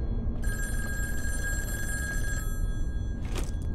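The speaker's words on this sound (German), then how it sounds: "Irgendwo klingelt das Telefon." An old-style telephone bell rings in the horror video game In Sound Mind, a steady metallic trill for about two seconds before stopping, followed by a short click, heard fairly loud over a low ambient rumble.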